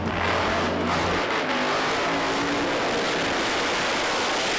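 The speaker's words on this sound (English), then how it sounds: "So debut burnout in any kind of competition for Andy Wright Jr. with the hot rod." A hot rod drag car does a burnout at a British Pro Mod drag racing meeting, its engine roaring loud and steady with a broad tyre-spinning rush that fades slightly toward the end.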